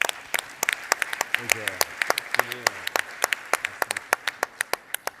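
Scattered, uneven clapping from a small audience at an aviation federation general assembly, honouring the regional aeroclub president; sharp individual claps ring out over a murmur of voices in the hall.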